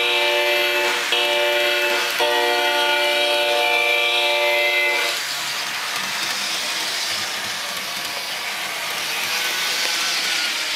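A model DCC diesel locomotive gives a steady harmonic tone for about five seconds, then shifts to a softer, broad rushing rumble that continues evenly to the end.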